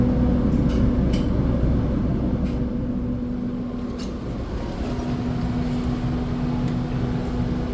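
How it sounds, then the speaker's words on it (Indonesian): Blambangan Express train arriving at Pekalongan station, a steady low rumble with a faint sustained hum, continuous and moderately loud throughout without clear distinct events. "ada kereta masuk"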